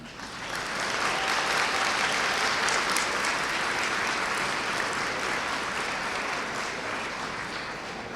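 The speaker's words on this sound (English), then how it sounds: "now here's your chance to applaud for them" Sustained applause from a large crowd at a fall commencement ceremony, steady and dense clapping that swells in and holds for several seconds.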